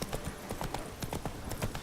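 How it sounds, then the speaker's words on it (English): Tamed black horse in Witcher 3 clip-clopping in a quick, even rhythm of hoof strikes, close and fairly quiet, with no other sound competing. "Got our horsey tamed."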